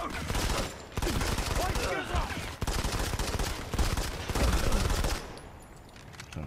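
Rapid bursts of automatic gunfire from the mobile shooter Modern Combat 5: Blackout, loud and dense, sounding in several sustained volleys with brief gaps between them and tapering off at the end.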